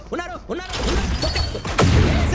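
Bomb blast and bursts of gunfire in the BGMI mobile battle game, a rumbling explosion with scattered shots, heard under excited talk from players.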